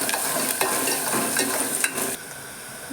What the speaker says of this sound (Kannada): ಉಳ್ಳಾಗಡ್ಡಿ ಹಾಕಿ ಚೆಂದ ಹುರ್ಕೋಬೇಕು ನೋಡ್ರಿ.